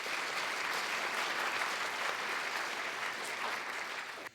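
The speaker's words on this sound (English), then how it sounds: "So a round of applause for Mark, I think." A steady round of applause from an audience at a talk about archaeology on the Ness, even and fairly soft, holding for about four seconds before stopping abruptly.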